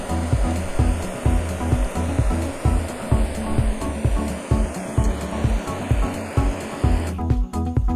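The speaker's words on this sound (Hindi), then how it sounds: "तो अभी हमने पंप का स्विच खोल दिया है। अब हमने फ़ैन का स्विच खोल दिया।" A homemade battery-powered mini cooler runs with its fan and water pump switched on, giving a close, steady whirring hum with rhythmic rattling thumps throughout and no speech.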